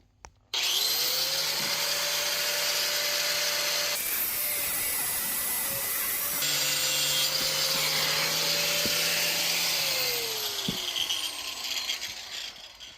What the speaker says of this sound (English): Time to trim the bolt that goes through the leaf pack. Enough of that hacksaw. Time for the grinder.